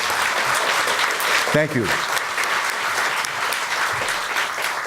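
An audience applauds steadily for a theatre cast after a performance at a teach-in on incarceration, with dense sustained clapping throughout and a brief spoken thanks partway through.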